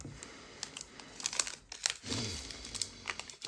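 Panini Adrenalyn XL card packets are torn and crinkled open close up, with a quick series of sharp foil rips and crackling rustles in uneven bursts, and no talking.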